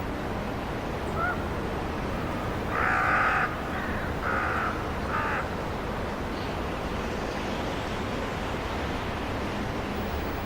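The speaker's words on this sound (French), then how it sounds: "Les grands corbeaux en profitent pour venir le chahuter." Several hoarse caws from common ravens harassing a young vulture ring out in a short burst over a steady roar of wind or distant surf.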